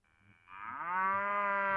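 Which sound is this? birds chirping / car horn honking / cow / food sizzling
cow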